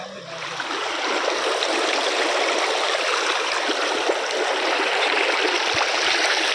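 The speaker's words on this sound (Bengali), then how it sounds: "নদীতে বেশ ভালো স্রোত আছে।" A river runs strongly over stones in a steady, loud rush of water with fine gurgles and splashes, unbroken throughout, with a faint murmur at the very start.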